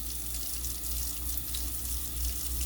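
Tap water runs steadily into a sink over pre-cut vegetables being rinsed for beef stew, a constant close splashing rush with no voices.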